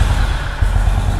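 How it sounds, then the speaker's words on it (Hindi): Honda Hness CB350 motorcycle idling just after starting, a steady low exhaust rumble with rhythmic pulsing, loud and close, no talk over it. "तो चलिए हम लोग इस बाइक का एग्जॉस्ट साउंड को सुनते हैं।"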